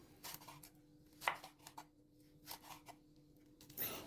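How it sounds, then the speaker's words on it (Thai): A knife slices red and green spur chili peppers on a cutting board in a kitchen, giving a series of quiet, irregular close-up chops and taps. "พริกชี้ฟ้าแดงพริกชี้ฟ้าเขียวอย่างละเม็ดนะครับนำมาหั่น"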